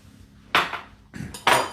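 A utensil scrapes and clinks against a bowl while yogurt is mixed into a cheesy dip, giving a few irregular bursts of close scraping and tapping with short quiet gaps between strokes.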